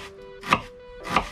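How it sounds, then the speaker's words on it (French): Knife chopping an onion on a board for a marinade, two distinct crisp cuts about half a second apart, close and clear over a faint background hum. "On va pouvoir couper l'oignon."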